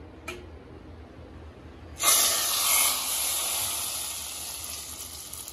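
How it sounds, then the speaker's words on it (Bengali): Hot ghee tempered with whole cumin and dried red chillies is poured into hot khichuri, giving a sudden loud sizzling hiss that slowly fades over a few seconds, preceded by a faint clink. "আর দেব কয়েকটা শুকনো লঙ্কা। এবার এটা আমি গরম খিচুড়ির মধ্যে দিয়ে দেব"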